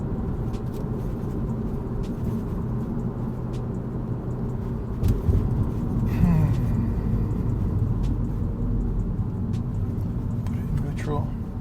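Steady engine hum and road rumble from a manual-transmission car driven in third gear on city streets in New York, moderately loud and continuous with a couple of brief thumps midway.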